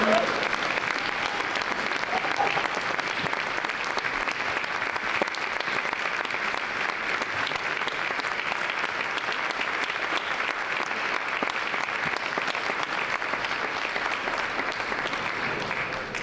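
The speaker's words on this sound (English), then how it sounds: "Can you please give them another round of applause" Long, steady audience applause at a youth program gala session, a sustained wash of many clapping hands heard at moderate distance, unbroken and even to the end.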